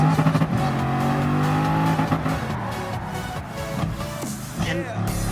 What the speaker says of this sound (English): it has 4 turbos but it's an 8-liter W16 engine, so it has this extremely deep rumble